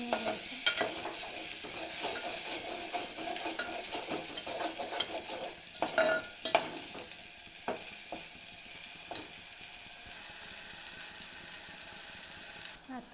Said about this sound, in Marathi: अजून तेल सुटत आहे म्हणजे आपला मसाला थोडा शिजत आलेला आहे